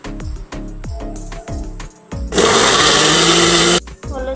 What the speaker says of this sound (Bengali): পেঁয়াজ, রসুন, সরিষা, জিরা, দারচিনি এগুলো ব্লেন্ডার করে নিয়েছি